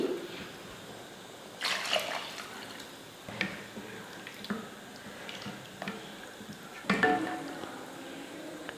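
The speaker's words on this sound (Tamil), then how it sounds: "குழம்புக்கு தேவையான தண்ணியெல்லாம் ஊற்றியாச்சு" Water splashes and pours in a few short bursts into a pot of simmering pea curry, with soft drips and wet squishing between them, close and moderately loud.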